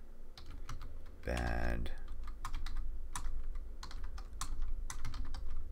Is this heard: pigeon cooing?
no